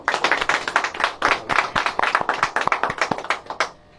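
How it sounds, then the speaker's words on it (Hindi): A church congregation claps loudly together in a steady, rapid patter of hands that fills the room and fades near the end, with no voices over it. "और एक बार अपने परमेश्वर यहोवा के लिए जोरदार ताली बजाएंगे"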